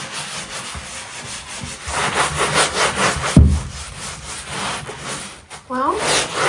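A Scrub Daddy sponge scrubs a filthy, grimy bathtub with steady rubbing strokes, close and fairly loud, and a squeaky scrape near the end.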